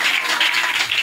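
Church congregation clapping together in praise during a Sunday service, a steady dense patter of many hands filling the short moment without talk.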